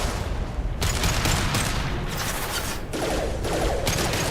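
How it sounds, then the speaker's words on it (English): Dense, loud gunfire of an impact shot in the video game Mass Effect 2 crackles continuously for several seconds, a sustained barrage of overlapping shots and bursts. "Firing an impact shot"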